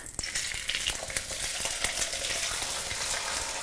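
Sea bass fillet frying skin-side down in a hot pan gives a steady, loud crackling sizzle with sharp pops throughout, close up and with no talking.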